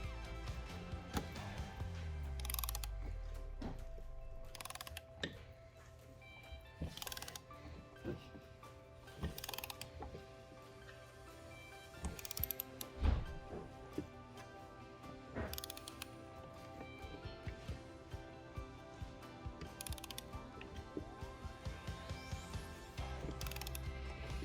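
A torque wrench ratchets in repeated clicking bursts while tightening a Warrior 350 oil pump, close and fairly quiet, with metallic mechanical clicks and scraping spread across the whole stretch.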